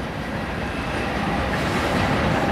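An eastbound CSX loaded coal train with helper locomotives rolls past close by, a loud continuous rumble of heavy wagons with a steady roar and faint rhythmic wheel clatter.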